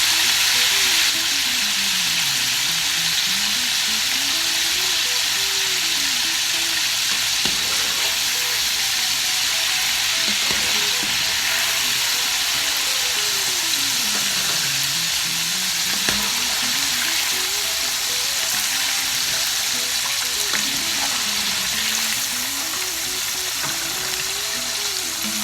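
Chicken strips deep frying in hot oil, a steady, dense sizzle and bubbling that holds loud and close for the whole stretch with no voices.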